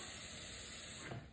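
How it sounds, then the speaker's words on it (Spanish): Water from a jug, a mix of blue solarized water and regular water, pours over potted plants with a steady hissing, spray-like splash that fades near the end. "Y con esto regamos nuestras plantitas."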